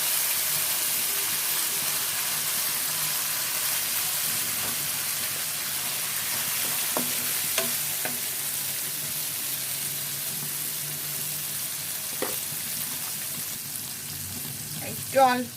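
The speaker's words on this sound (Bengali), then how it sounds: "এটাও ভালো করে ভুনতে হবে, মশলার কাঁচা গন্ধটা যেন না থাকে।" Ginger-garlic paste and spices fry in a pan with a low, steady sizzle, and a few scattered clicks and scrapes of stirring rise above it.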